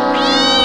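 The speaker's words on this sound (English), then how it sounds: "This is my cat!" A cat gives one loud, close, drawn-out meow that rises in pitch and holds steady until it cuts off.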